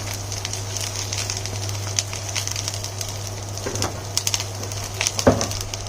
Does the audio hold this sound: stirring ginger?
yes